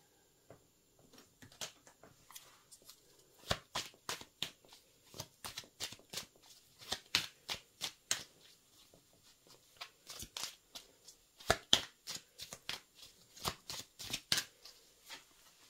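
A deck of tarot and oracle cards is shuffled repeatedly by hand, sharp papery riffles and slaps coming in quick clustered bursts, close and fairly soft with no talking.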